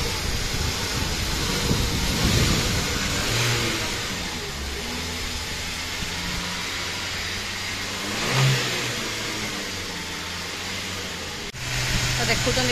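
A vehicle engine turns over and revs in swells, rising and falling at close range, with people talking around it.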